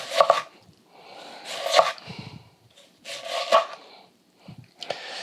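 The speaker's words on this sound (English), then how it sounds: "Now you're going to start with your claw grip, hold everything together, and make nice dices like this." Knife dicing an onion on a cutting board, bursts of rapid close chopping taps and scraping in three or four short runs separated by brief pauses, no talking.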